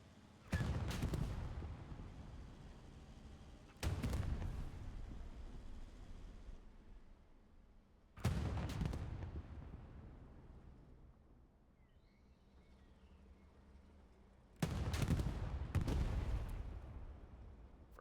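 Tank cannon fire in Hell Let Loose, a World War II shooter, during a team tank scrimmage with Sherman tanks: four loud booming shots spaced several seconds apart, each decaying into a long rumbling tail, with no voices.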